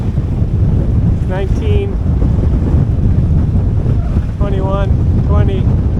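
Strong wind roars across the microphone aboard a 21-foot home-built sailboat on a solo Atlantic crossing, with waves and white caps around it; loud and steady throughout, as a man briefly reads out numbers.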